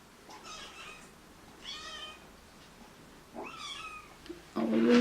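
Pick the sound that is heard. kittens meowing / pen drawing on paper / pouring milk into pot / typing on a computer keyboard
kittens meowing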